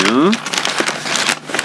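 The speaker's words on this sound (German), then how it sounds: "Papier, noch mehr Papier." Packing paper crinkling and rustling while a box containing Smith & Wesson Airweight handcuffs is unpacked, close and loud with irregular crackly bursts; someone speaks briefly at the start.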